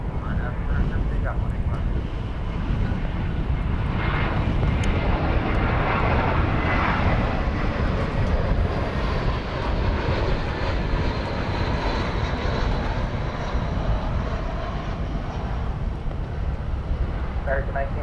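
Airbus A380 taking off at DFW Airport, a loud, steady jet roar that holds throughout, with radio chatter faintly underneath.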